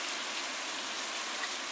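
Heavy rain falls steadily in a dense, continuous hiss, close and even with no pauses and no voices.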